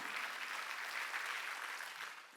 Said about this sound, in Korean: 박수로 하나님께 영광을 돌려야 된다는 거예요